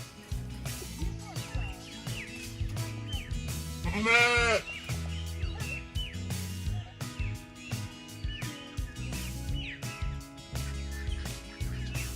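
Sheep and goats bleat on a farm where overripe fruit is fed to them, with one loud, wavering bleat standing out amid a busy mix of other animal calls and background farm noise.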